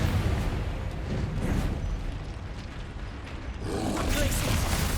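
Fire-blast spells explode in the video game Hogwarts Legacy, giving heavy rumbling booms with a dense low-end roar that swells, dips and then surges again near the end.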